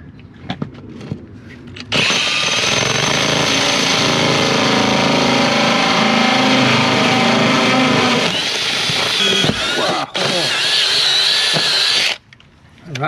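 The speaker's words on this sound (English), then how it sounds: "now it's time for our hole saw drill bit" A loud power drill whines continuously as a hole saw bit grinds through a house wall, briefly pausing near the end before stopping.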